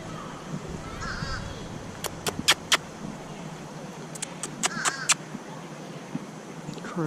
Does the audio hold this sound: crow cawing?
yes